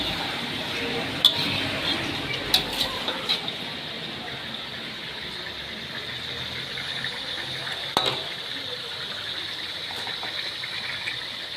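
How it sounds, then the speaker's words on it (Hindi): Chicken pieces frying golden in oil in a karahi, a steady loud sizzling hiss with a few clinks of a utensil against the pan. "अच्छे तरीके से हमने चिकन को गोल्डन फ्राई करना है"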